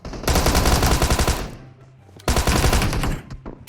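Rapid automatic gunfire in the mobile shooter PUBG Mobile, two loud sustained bursts separated by a short pause, close and dominant.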